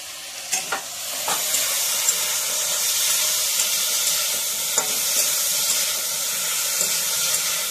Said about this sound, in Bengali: হালকা হালকা বেগুনগুলো ভাজা করে নেব বন্ধুরা।